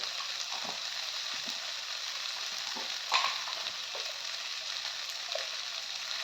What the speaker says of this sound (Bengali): হাফ চামচ জিরে গুঁড়ো দিয়ে এবার আমি ভালোভাবে কষিয়ে নেব